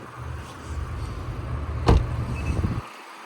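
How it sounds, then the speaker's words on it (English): A 2023 Mazda MX-5 Miata Grand Touring soft top is lowered by hand beside the idling car, with a low steady engine hum and one sharp clunk midway, then a quieter rattle before the sound cuts off. "So let's pull the top down real quick so I can show you all how that looks like."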